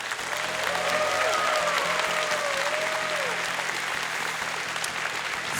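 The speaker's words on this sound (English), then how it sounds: "So, give her a round of applause to our fantastic judges." A convention crowd at a Eurovision-style song contest claps loudly and continuously for the judges, with a brief whistle-like tone cutting through the sustained applause.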